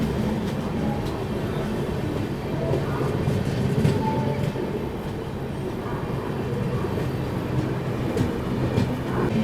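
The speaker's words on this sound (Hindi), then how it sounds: "यहाँ पर कैफियत एक्सप्रेस अपनी ट्रेन को ओवरटेक करके निकल रही है।" An express train overtakes on the main line beside a halted passenger train, a steady loud rumble of wheels and rail clatter carrying through without pause and no talking.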